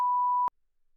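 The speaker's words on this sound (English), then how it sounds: "do you like the beep?" A single pure, loud censor bleep holds one steady tone for about half a second, then stops abruptly into near silence.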